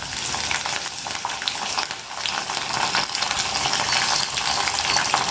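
Finely chopped green chillies fry in hot oil in a pan for mango vermicelli pulihora, making a steady, close, bright sizzle with crackling throughout and no voices.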